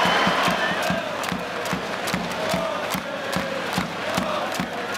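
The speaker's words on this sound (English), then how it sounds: "I think we're going to get the biggest cheer of the night" A large football stadium crowd during an Australia match keeps up a dense, steady roar of cheering and chanting, with rhythmic clapping repeating through the din.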